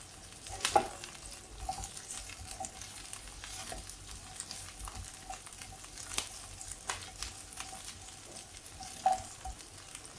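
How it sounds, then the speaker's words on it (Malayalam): Green chilies sauté in a frying pan under a quiet, steady sizzle, with occasional soft scrapes and taps as they are stirred. "ഇതൊന്ന് വഴന്ന് വന്നിട്ടുണ്ട് ഇനി ഇതിലേക്ക് നമുക്ക് പച്ചമുളക് ഇട്ട് കൊടുക്കാം"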